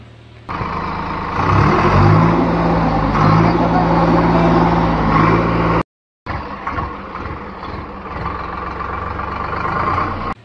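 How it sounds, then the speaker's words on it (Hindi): A Massey Ferguson 8055 tractor engine running close by, a steady loud diesel rumble that rises as it revs, cuts out briefly, then resumes idling. "चलिए दोस्तों, आपको इस ट्रैक्टर की आवाज़ सुनाते हैं,"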